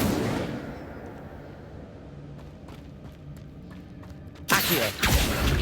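A fire spell cast during a cave battle against a giant spider-like monster in Hogwarts Legacy, bursting in as a loud, roaring whoosh near the end, after quieter stretches of scattered combat clicks and thuds.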